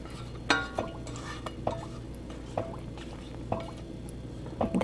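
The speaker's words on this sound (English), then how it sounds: "I'm just going to take all the little extra bits out of the pot and make sure that gets right into" Ricotta curds and whey scraped from a pot drip and plop into a colander, a series of spaced wet splats and spoon clinks over a quiet kitchen background, close by.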